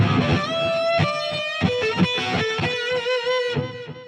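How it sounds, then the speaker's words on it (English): Heavily distorted electric guitar chugs and rings through a busy riff on DiMarzio pickups, thick and saturated, loud and up close with no voices. "And then you go full on distortion."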